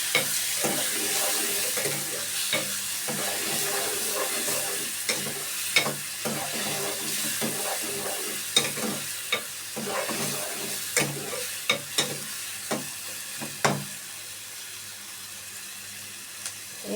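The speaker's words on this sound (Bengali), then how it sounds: "এখন আমি কেটে রাখা টমেটো এবং কাঁচামরিচগুলো দিয়ে দিব। আমার ভালোভাবে নাড়তে থাকবে।" Chopped tomatoes and green chilies fry in a pan while being stirred steadily, a continuous close sizzle broken by repeated spatula knocks and scrapes, with no one speaking.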